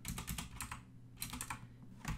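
Quick bursts of typing on a computer keyboard, faint and close, with clusters of rapid keystrokes separated by short pauses.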